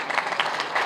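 A brief burst of applause from an audience of children, a dense patter of clapping heard at moderate distance.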